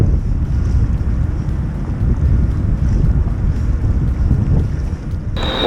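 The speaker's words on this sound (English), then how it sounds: "hopefully you can hear me with all this noise from the ships" Loud, steady low rumble and wind buffeting on open water near ships at a river park kayak launch, a continuous roar with no clear breaks and no voices.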